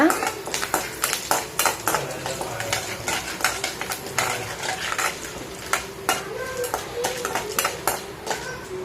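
Mustard seeds and chana dal crackle and pop in hot oil, with repeated clatters and scrapes of a spoon against the pan in irregular bursts under a light sizzle, all fairly close.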